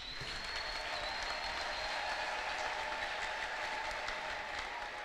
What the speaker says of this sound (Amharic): ለጌታ ከእልልታና ጭብጨባ አምጡ ባካችሁ